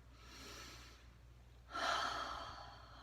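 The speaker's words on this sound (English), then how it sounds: "Take a big breath" One person breathes in and out deeply and close up, a soft airy inhale and then a louder, longer rushing exhale in a quiet room.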